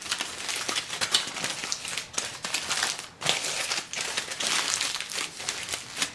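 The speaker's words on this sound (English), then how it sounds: "So fold your aluminum foil up over it." Aluminum foil crinkling and crumpling as it is folded up over pull-apart garlic bread, a steady close rustle with sharper crackles throughout, no voices.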